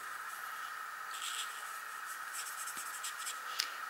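Stampin' Blend alcohol markers color a pumpkin pie drawing on paper, with soft, close, scratchy strokes that come in short bursts over a faint steady hiss and no voices.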